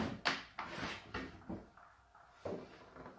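Wooden drawers of a vintage dresser being handled, giving a series of about five sharp wooden knocks and bumps spaced through a few seconds, close and fairly quiet.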